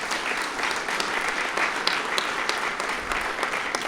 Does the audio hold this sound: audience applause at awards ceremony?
yes